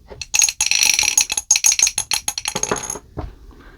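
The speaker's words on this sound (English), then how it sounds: "let's see what the dice have to say for shelf 41" Dice roll across a hard surface in a rapid, close clatter of sharp clicks and rattles lasting about three seconds before settling, with no talking.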